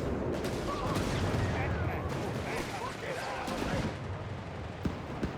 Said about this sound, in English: A lot of artillery here.